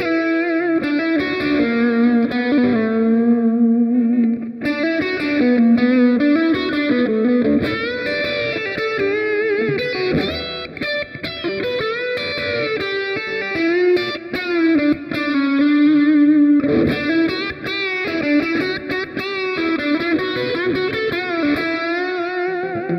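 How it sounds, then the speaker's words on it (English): Distorted electric guitar through a NUX MG-101 amp modeler set to a tweed amp with boost, swirling phaser and echo trails, playing sustained chords and melodic lines steadily for the whole stretch, loud and up front. "he used a tweed amp with the boost up front, and he also has a phaser"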